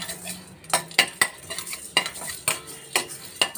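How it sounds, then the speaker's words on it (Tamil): Fenugreek, mustard seeds and cumin dry-roasting in a pan, stirred with a metal spoon that clinks and scrapes against the pan at a steady, repeated rhythm; close and fairly quiet, with no talking. "இது லேசாக வறுத்து எடுத்துக்கோங்க."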